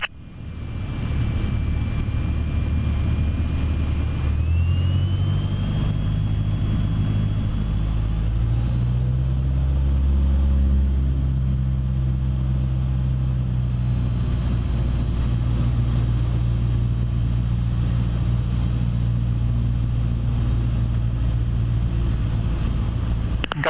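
A light aircraft engine drones steadily as the plane taxis to parking at North Weald airfield, a loud continuous low rumble with a slowly shifting pitch throughout.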